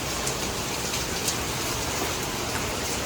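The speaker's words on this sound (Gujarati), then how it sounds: "વરસાદ જો કેવો આવે છે" Steady heavy rain pours outside in a continuous broadband hiss with occasional louder drops, constant and fairly loud throughout, with no voices.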